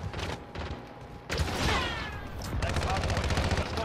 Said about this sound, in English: we're getting shot from like two different areas here